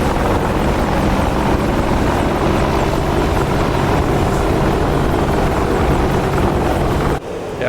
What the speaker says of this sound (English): Hang on, it's a chopper. It's an Apache.